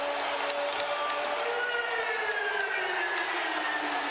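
A roaring basketball crowd at Stegman Coliseum during a Georgia Bulldogs game against Arizona State, a loud, continuous wall of cheering with shrill whistle-like or horn-like tones sliding through it.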